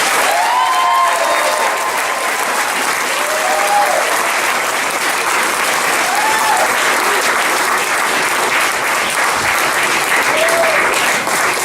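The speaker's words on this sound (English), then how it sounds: "can everybody give a round of applause to bring Lacey back in" A theatre audience at a live improv musical claps and cheers in one dense, continuous ovation that holds steady and loud throughout, with a few voices whooping over it.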